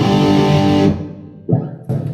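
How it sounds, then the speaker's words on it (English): An electric guitar runs through an 80s-style rack with a reverb effect, playing loud sustained distorted notes that cut off into a reverb tail, followed by two more chord stabs. "It's just a reverb."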